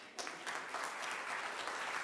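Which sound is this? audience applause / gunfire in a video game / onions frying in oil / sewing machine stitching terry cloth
audience applause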